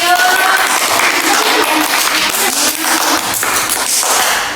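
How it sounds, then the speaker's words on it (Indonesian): A classroom of pupils applauds a classmate with dense, sustained clapping that mixes with children's voices and chatter, loud and close throughout. "Saya tepuk tangan buat Andre."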